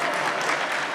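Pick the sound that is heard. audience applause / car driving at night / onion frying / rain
audience applause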